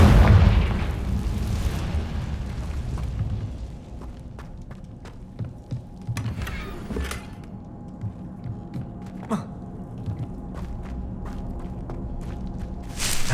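Confringo spell explosions in the Hogwarts Legacy video game: a heavy boom opens, followed by a string of sharp pops and cracks with lighter footstep-like thuds over a steady rumbling game ambience.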